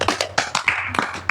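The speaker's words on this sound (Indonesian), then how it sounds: "mari kita tepuk tangan untuk kita semua" A group of people claps together at a book discussion gathering, a dense, loud burst of overlapping hand claps close by, with no talking.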